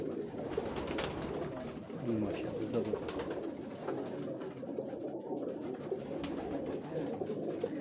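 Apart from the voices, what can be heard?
pigeons cooing on a Lahore rooftop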